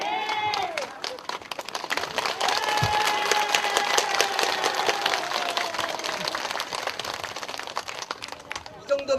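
An elderly audience at a temple-hosted filial-piety festival in Buyeo claps steadily, a dense crowd of hands spread wide, while a voice sings or calls over it.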